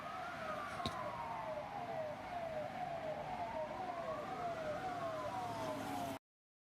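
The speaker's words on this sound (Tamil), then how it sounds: "அடுத்தது ஆம்புலன்ஸ்." An ambulance siren wails in repeated rising and falling sweeps, fairly faint and steady throughout before cutting off abruptly near the end, with no voices.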